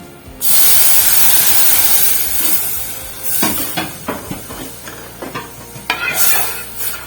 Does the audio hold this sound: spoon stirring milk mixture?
yes